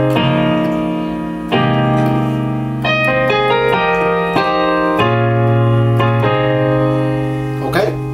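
Solo piano plays the second part of the intro to a song, with sustained chords changing every second or so over a low bass note, close and steady.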